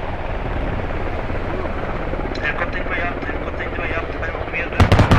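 A military helicopter in a combat video game whirs steadily and loudly throughout, with a sharp burst of gunfire near the end and a voice speaking over the din.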